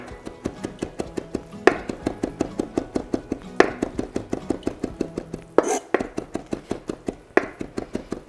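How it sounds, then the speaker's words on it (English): A knife chops rough pieces of shallots, rosemary and plums on a board in steady, rapid strokes, each a sharp close tap, with a few heavier knocks scattered among them. "gonna give that a nice rough chop"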